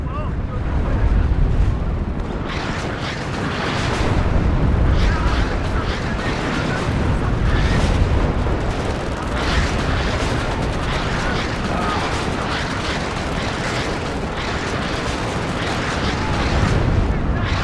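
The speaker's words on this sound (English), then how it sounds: "we got the direct fire artillery coming in as well" Direct fire artillery in WARNO during a campaign holding attack: a constant loud roar of battle with repeated booming impacts and shots across the whole stretch, while a voice talks over it.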